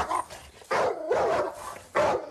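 Aggressive Dogo Argentino barking during bite training, a few loud, close, harsh barks in quick bursts with short gaps between them.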